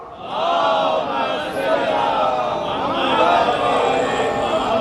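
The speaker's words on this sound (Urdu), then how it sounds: "ایک نعرے سلوات" Large crowd at an outdoor protest chanting a salawat in unison, a loud, sustained wall of voices with rising and falling melodic lines that carries through the whole stretch.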